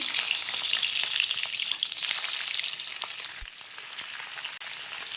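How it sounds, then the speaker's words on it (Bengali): Hilsa fish wrapped in cabbage leaves fry in plenty of mustard oil in a large kadai, giving a steady, close, dense sizzle with faint crackles and a brief utensil knock, no talk. "আমি একে একে মাছগুলো কড়াইয়ের মধ্যে দিয়ে দিচ্ছি"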